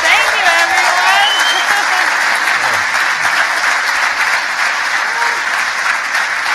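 Conference audience applauding Jessica at a startup event, a dense steady wash of many hands clapping close and loud throughout, with faint voices and a few cheers mixed in.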